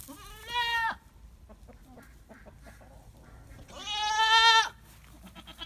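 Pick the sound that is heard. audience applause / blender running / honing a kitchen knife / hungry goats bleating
hungry goats bleating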